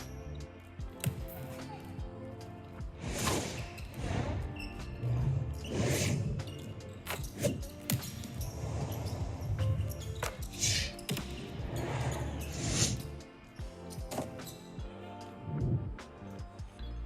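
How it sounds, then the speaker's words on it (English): Basketball bounce and whoosh effects are layered into a practice edit for a basketball reel, with repeated sharp thuds and swishes over a busy backdrop of music and ambience. "lots of whooshes, lots of basketball sound effects, lots of ambiance"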